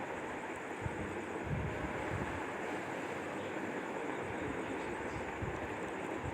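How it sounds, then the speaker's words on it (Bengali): Water pours into a sizzling catla fish curry masala made with yogurt, producing a steady, loud, hissing wash of sound that runs unbroken throughout. "এবারে আমি পরিমাণ মতন জল দেব।"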